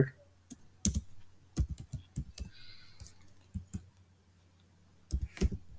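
A search query typed on a computer keyboard, irregular bursts of close key clicks with brief pauses between words; quiet speech occurs faintly.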